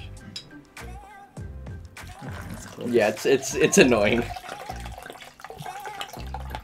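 G Fuel energy drink being poured out for a second person, a liquid splash and trickle rising midway under a few short, casual spoken remarks.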